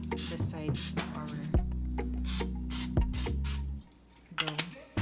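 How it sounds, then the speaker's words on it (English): Butter-flavored cooking spray hisses onto bread dough in several short bursts over a steady hum, with some clatter between the sprays. "we can scrape the sides by using our butter flavored cooking spray"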